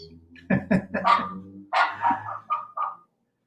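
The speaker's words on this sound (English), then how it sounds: "I hear my dogs." Several dogs bark in quick bursts, sharp yaps followed by a few shorter barks that trail off, fairly close and loud, with no talking.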